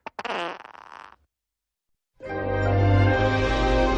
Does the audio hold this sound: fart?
yes